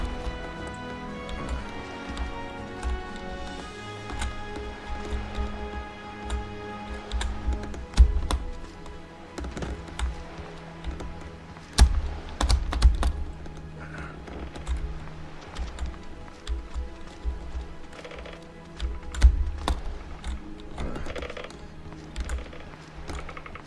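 Typing on a computer keyboard with a space key that tends to stick, irregular clicks and taps with occasional heavier thumps, running over a steady background of music or game sound.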